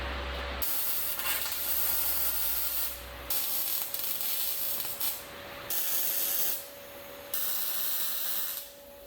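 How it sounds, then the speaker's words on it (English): A welder works on roll cage bars for a 1950 Mercury M47 rat rod, giving a steady crackling, sizzling buzz in several bursts separated by short pauses, with an electrical hum underneath. "I can go ahead and finish welding this up."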